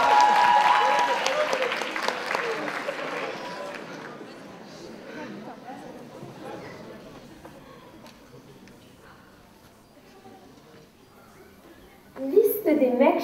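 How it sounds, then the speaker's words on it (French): An audience at the DETO 2017 cosplay contest applauds a Game of Thrones duo, clapping loudly at first and then fading over several seconds, with crowd murmur and a burst of noise near the end. "on vous applaudit."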